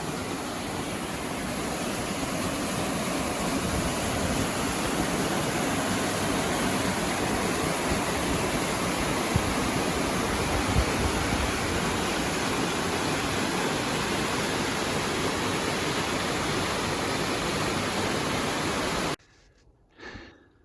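Sparrowhawk Creek rushing beneath the High Rockies bridge in Kananaskis, a steady, loud broadband roar of water that holds unchanged for most of the time before cutting off abruptly near the end.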